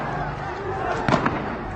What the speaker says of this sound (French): plusieurs coups de feu retentissent.